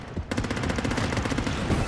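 Rapid machine gun fire in the underwater shark game Depth, a fast continuous burst of loud, close shots rattling steadily from start to finish after a brief lead-in.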